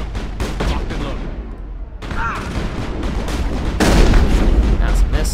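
Heavy shotgun blasts ring out in the sci-fi shooter Mass Effect during a club raid. Booming reports land amid combat noise, and voices talk over the fighting.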